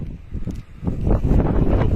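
Strong, gusting wind on an exposed mountain in cold weather, roaring and buffeting steadily close to the microphone and building louder through the second half, with no voices.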